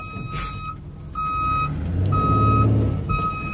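Repeated electronic reversing beeps, steady and evenly spaced, sound over the low engine rumble of an Uplander backing up.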